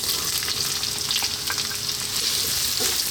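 Chopped onion sizzles steadily in a pan over medium heat for a salmon cream pasta, a dense continuous frying hiss with occasional soft crackles and stirring, close and with no talking.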